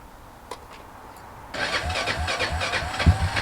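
A small garden engine cranks and then catches while in gear, starting up and running with a rough, close, pulsing sound after a short quiet lead-in.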